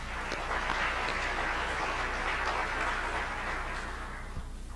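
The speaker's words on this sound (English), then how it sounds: "please give him a round of applause" Audience at a lecture series award ceremony applauds steadily, a dense, even roar of clapping that holds at constant loudness without talk throughout.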